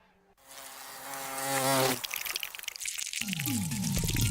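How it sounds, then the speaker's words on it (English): A buzzing insects sound effect in a radio ad drones loud and close, a steady whine of flies or wasps that swells, then breaks into a jumble of other effects, with no talk over it. "When the bugs start to crawl, who you gonna call?"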